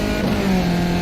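A race car in the iRacing sim at Sonoma Raceway held at full throttle, a loud steady engine drone with its pitch rising slightly over a brief moment.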